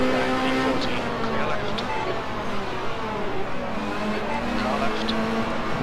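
Race car engines in Assetto Corsa on the Nordschleife drone continuously at high revs, tones rising and falling through gear changes amid a pack of other cars, loud and sustained.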